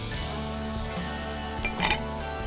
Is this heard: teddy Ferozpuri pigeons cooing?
no